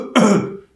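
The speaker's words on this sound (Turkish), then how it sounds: "öksüreyim." A single sharp cough or throat-clearing burst, close and loud, starting abruptly and trailing off within about half a second.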